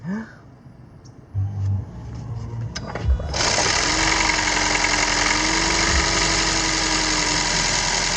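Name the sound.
car engine starting and idling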